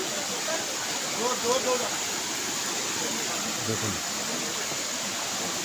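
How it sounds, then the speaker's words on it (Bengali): Water flowing and falling at Pancha Lingeswar temple in Odisha, a steady broad rushing wash heard close by while someone talks over it. "দেখুন এই জলগুলো এখান দিয়ে আসছে, কীভাবে পড়ছে।"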